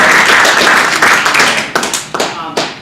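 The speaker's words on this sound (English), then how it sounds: "you guys want to give yourselves a round of applause for that" Trainees at a community emergency response training class clap for themselves, a brisk round of close applause from a small group that thins into a few separate louder claps toward the end.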